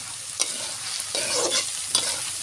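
Potatoes fry in a pan with onion, garlic and turmeric, giving a steady soft sizzle broken by a few sharp scraping stirs of a spoon, close and without any voices.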